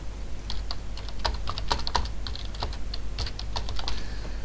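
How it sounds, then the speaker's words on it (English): Keys on a computer keyboard are typed in quick irregular bursts of crisp clicks, close and clear over a quiet background, with no talking. "I'll just start typing and I get a list"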